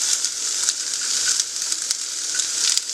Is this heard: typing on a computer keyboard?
no